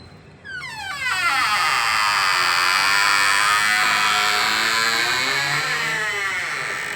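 A house door swings open with a loud, drawn-out eerie creak, its sweeping, wavering squeal rising in at once and holding for several seconds before slowly easing, close and alone.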